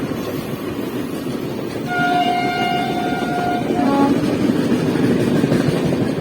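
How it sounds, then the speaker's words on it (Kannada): A train passes near Ankola with a loud, steady rumble and clatter of rolling wagons, while a long horn blast sounds partway through, followed by a shorter second blast. "ಟ್ರೈನ್ ನೋಡಿ, ಟ್ರೈನ್ ಕಡೆ ಬರ್ತಿದೆ, ಇಲ್ಲಿಂದ ಬರ್ತಿದೆ"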